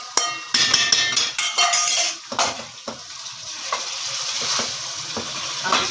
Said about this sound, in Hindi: अब हम इसमें ये दही मिला चिकन डालेंगे।